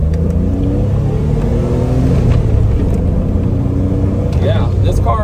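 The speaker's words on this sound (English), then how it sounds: "let's give this guy some gas here and see how it runs." A 1982 DeLorean DMC-12 engine pulls steadily under acceleration while driving, its droning tone rising in pitch over several seconds amid continuous road noise.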